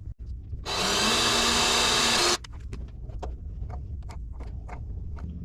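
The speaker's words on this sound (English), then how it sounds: "now I can drill and tap that hole" A power drill whines steadily for about two seconds while drilling and tapping a hole to mount a fuel valve on a GT40 kit car, followed by light metallic tapping and handling noises.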